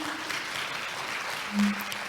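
Light audience applause at the opening ceremony of a Korean academic conference, a soft, even patter of clapping with a brief low tone near the end.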